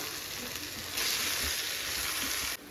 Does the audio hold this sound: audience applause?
no